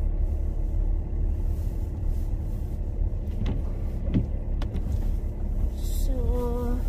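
Cars pass at the entrance of a camping site in early winter, a steady low rumble with a few brief knocks and a rising engine whine near the end, with no talk.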